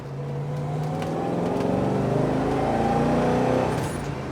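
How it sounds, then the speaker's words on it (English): Race car with a four-barrel carburetor under a big bonnet scoop and a heavy-duty T10 gearbox, its engine revving loudly with strong intake roar, rising and holding before easing off, no talk. "Induction noise. Something these cars are definitely not short of, especially with that big bonnet scoop there."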